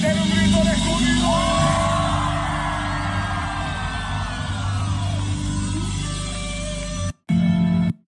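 A concert crowd shouts and cheers for joy in one sustained, loud roar with whoops and yells, then cuts off briefly before the noise resumes.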